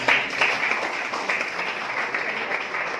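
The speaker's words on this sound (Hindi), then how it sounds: "सबसे पहले तो जवाहरलाल नेहरू के लिए छोटा तालियां बजाइए" Audience applause at a Kargil Diwas gathering, a short, moderate wash of clapping that holds fairly steady for a few seconds after a slightly stronger start.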